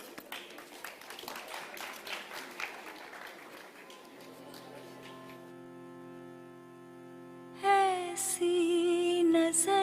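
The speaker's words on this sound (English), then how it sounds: "Please, let's have a round of applause." Audience clapping for two dancers at a 57th annual foundation day celebration, a scattered round that tapers off over several seconds before sustained musical tones take over and grow louder.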